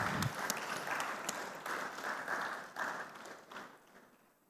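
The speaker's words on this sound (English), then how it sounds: "let's applaud" Conference attendees at a tech event applaud a panelist being introduced, a moderately distant wash of many clapping hands that holds steady and then tapers off.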